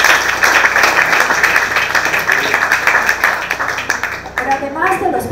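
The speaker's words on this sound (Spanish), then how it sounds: "Un fuerte aplauso para nuestros patrocinadores." An audience claps steadily for contest sponsors at a regional oratory competition final in Guna Yala, dense applause throughout that thins near the end as a voice speaks.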